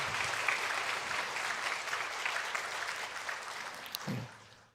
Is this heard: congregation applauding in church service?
yes